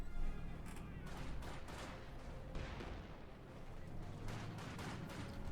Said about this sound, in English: Bit of shooting there.